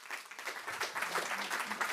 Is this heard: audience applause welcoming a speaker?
yes